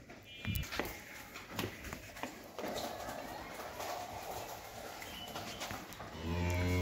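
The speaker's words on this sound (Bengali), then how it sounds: "এটা একটা মুন্ডি বকনা বাছুর।" A Friesian heifer calf on a dairy farm lets out a low, drawn-out moo near the end, following clattering farm noise and a person talking nearby.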